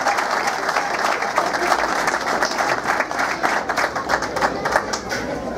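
Loud, sustained crowd applause follows a symphonic band performance, a thick wash of many hands clapping close by with scattered sharper claps and faint crowd murmur, continuing without letup.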